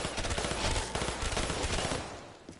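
Rapid automatic M16 rifle fire in Black Ops 3 Zombies, a continuous dense burst of shots close and loud that tails off near the end.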